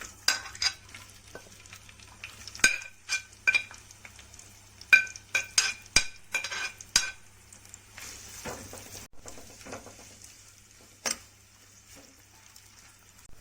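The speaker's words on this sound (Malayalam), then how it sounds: "എണ്ണ ഒഴിച്ചിട്ടുണ്ട് ഇനി വഴറ്റാനുള്ള സാധനങ്ങളിട്ട് എല്ലാം നന്നായിട്ടൊന്ന് വഴറ്റി കൊടുക്കാം" Onions and spices sautéing in oil for a spotted scat fish curry, soft sizzling broken by repeated spoon scrapes and clinks against the pan, close, with quiet gaps between stirs.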